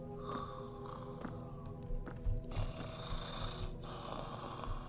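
A sleeping monster in the video game Return to Eldritch 3 gives a low, rumbling snore that swells and fades over a droning, eerie game ambience, with no talking.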